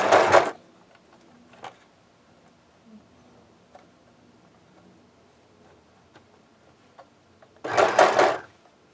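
A sewing machine stitching a zigzag on a handmade doll runs in two short, whirring bursts at the start and end, with faint ticks and handling clicks in the quiet between.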